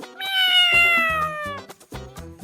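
A cat gives one long, drawn-out meow, clear and close, followed by short rhythmic thumping sounds, with no speech.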